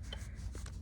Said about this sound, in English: You just slide your iron across the parchment paper.